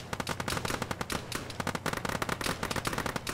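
Rapid bursts of automatic gunfire crack out in a military shooter game (Arma), dense and loud with sharp repeated shots and faint reverberant tails, with no talking.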